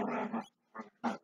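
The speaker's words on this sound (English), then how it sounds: "my dog is making noise." A dog close by makes three short, gruff, grumbling growl-barks in quick succession, loud and distinct against silence.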